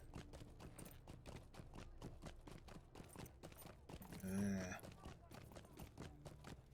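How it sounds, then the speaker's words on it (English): Horse hooves in the online game Lord of the Rings Online, a rapid steady clip-clop of galloping that runs throughout, with a brief whinny partway through, all fairly faint. "Alright, we'll get on a horse temporarily."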